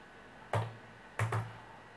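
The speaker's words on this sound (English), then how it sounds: "I'm going to type in CK" A few sharp key clicks, one then a quick pair, typed on a computer keyboard while entering an answer in a course quiz, close and clear against a quiet background.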